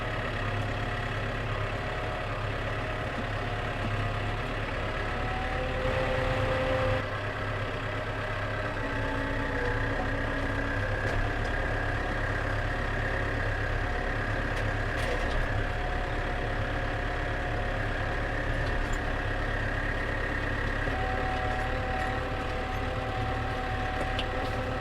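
Manitou telehandler engine idling steadily while warming up, a constant close diesel drone with a low rumble and faint shifting whines throughout.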